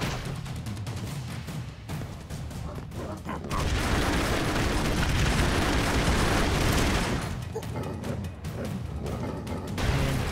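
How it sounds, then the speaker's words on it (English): Dynamite explosions in the Broforce video game burst out as a dense roaring blast that holds for several seconds, with scattered gunfire-like cracks before and after it and some talk underneath. "And boom goes the dynamite."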